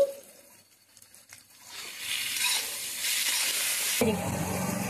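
Turmeric, chilli, cumin and coriander powders sauté in a pan for a spicy moya fish curry, starting quiet with light clinks, then swelling into a steady close sizzle with stirring.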